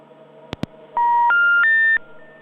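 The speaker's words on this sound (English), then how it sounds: "the next thing all of you at home will hear is that phone call being made" A telephone number is dialed on a live television show, heard as two quick clicks followed by a steady run of three touch-tone beeps, clear and close against a faint background hum.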